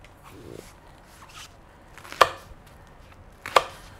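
Yam stems are chopped with a knife on a board, giving two sharp, isolated knocks about a second apart over a quiet background, with fainter soft handling sounds before them.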